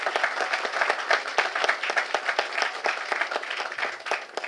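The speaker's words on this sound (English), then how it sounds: "I think they should be given a round of applause" Applause from a community crowd at a field dedication, honoring county workers: dense, steady clapping from many hands, fairly close and sustained throughout.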